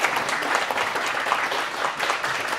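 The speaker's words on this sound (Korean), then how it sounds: "박수 부탁드릴게요." Steady audience applause fills a concert of traditional Korean music by a women's gugak chamber ensemble, dense and even clapping from a seated crowd throughout.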